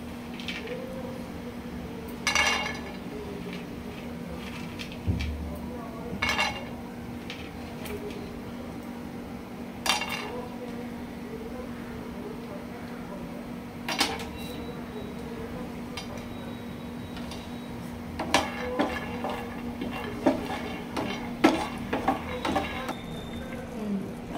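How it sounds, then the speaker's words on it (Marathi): Green chilies and peanuts dry-roast in a pan for chutney, heard as sparse, faint spatula scrapes and occasional sharp clinks over a low, steady background hum. "तर आपण आता भाजून घेऊया मिरची, शेंगदाणे चटणी करण्यासाठी"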